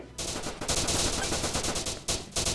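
Rapid automatic gunfire in the mobile shooter game Battle Gun 3D, loud, dense sustained bursts broken by a couple of brief pauses.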